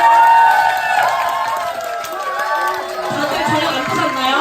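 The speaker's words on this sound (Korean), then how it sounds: "함성 박수 연습 한번 해볼게요" Seated attendees at a beauty creator academy event practice cheering and clapping, producing loud overlapping shouts and voices with scattered applause that rise and dip.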